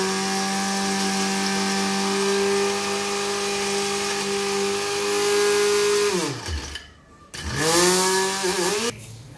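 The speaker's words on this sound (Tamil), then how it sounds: "இப்போ நம்ம அரைக்க போகிறோம்." A mixer grinder whirs loudly and steadily as it grinds spices and a crumbled stock cube for chicken, then winds down, stops briefly, and starts up again before cutting off.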